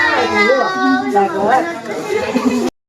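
Children are playing in front of a house, their voices loud and close, chattering and calling out over one another in a short burst that stops abruptly.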